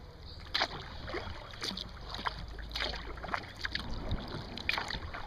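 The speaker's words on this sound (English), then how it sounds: "Now we're paddling upstream." Paddle strokes from a skin-on-frame kayak moving upstream on a river, soft repeated dips and swishes of water at an irregular pace, close and quiet over a low background rumble.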